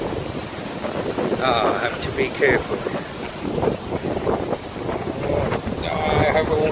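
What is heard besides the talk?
strong wind blowing on phone microphone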